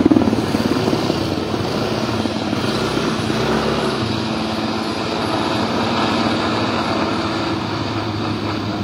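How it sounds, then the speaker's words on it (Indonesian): Water bombing helicopter working over a landfill fire, a steady, loud rotor thrum and turbine drone holding throughout with a low rumble swelling briefly near the start. "Ini helikopter water bombing terus melakukan pemadaman."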